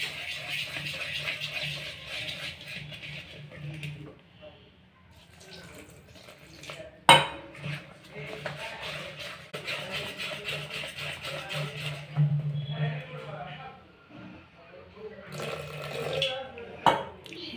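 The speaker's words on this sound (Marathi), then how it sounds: "चांगलं 5-10 मिनिटं असंच फेटून घेऊया" Dhokla batter of gram flour, turmeric, salt and water being beaten in a bowl at home, with steady scraping and clinking of a utensil against the bowl and a few sharper knocks, while someone talks over it.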